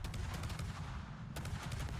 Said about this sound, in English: just going to use our guns against this fort